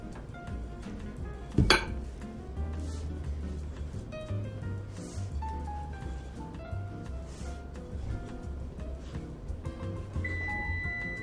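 A spoon clinks and scrapes inside a bowl while Irish soda bread ingredients are mixed, giving light, irregular taps with one sharper knock near the start over a quiet kitchen background.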